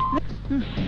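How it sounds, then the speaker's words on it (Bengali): A telephone is dialed to call the police, with a short, bright dial beep followed by a few fainter tones, close and clear, partly mixed with a voice. "আমি পুলিশকে ফোন করছি।"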